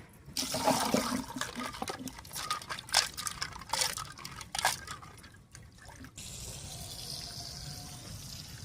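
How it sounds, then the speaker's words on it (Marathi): Running water splashes over crabs as they are washed for crab soup. A close, busy rush of water with splashing and clattering moves through the first six seconds, then it settles into a softer, steady stream. "आता हे खेकड्यामध्ये आपण लिंबू पिळून घ्यायचं आणि व्यवस्थित धुवून घ्यायचं।"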